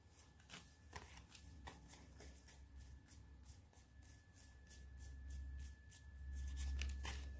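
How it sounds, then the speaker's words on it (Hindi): Playing cards being rapidly pulled out and flicked during a party game, a quick run of soft papery snaps over a low background hum, no talk. "मेरे को सिक्स नंबर के फटाफट से सारे कार्ड्स निकालने हैं"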